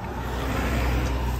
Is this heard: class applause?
no